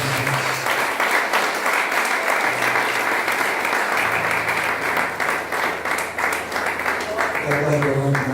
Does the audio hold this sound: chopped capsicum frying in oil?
no